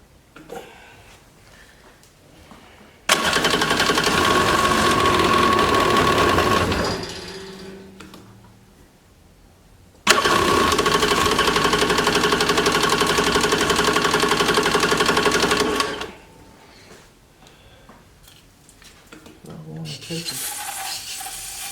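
A 1995 Yamaha Wave Runner jet ski engine, run with the choke on, roars loudly in two sustained runs of several seconds each, separated by quieter stretches with sputtering and mechanical noise.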